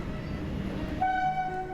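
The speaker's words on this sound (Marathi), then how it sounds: "वंदे भारत ट्रेनचा प्रवास आहे" Vande Bharat train travelling from Bodh Gaya to Varanasi: steady rumbling rail noise, with a sustained horn-like tone joining midway.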